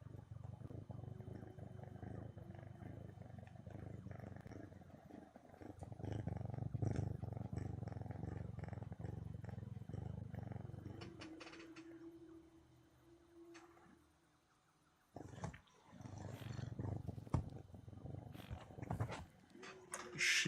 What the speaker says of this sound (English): She is such a little engine. Always purring.